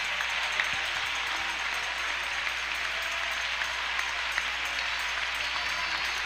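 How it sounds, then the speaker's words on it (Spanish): A church congregation at the opening service of a Costa Rica convention breaks into steady, sustained applause, a dense continuous clapping that fills the whole stretch with no speech over it. "Aquí nos gusta aplaudir"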